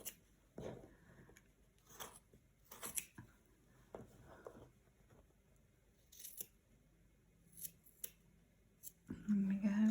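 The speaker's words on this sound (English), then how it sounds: "all that's left to do in this design, because I've left the cords hanging down, is just to trim" Scissors trimming the hanging cords of a macramé Christmas tree decoration: a few sparse, close snips spread across a quiet room, ending in a louder rustle of handling.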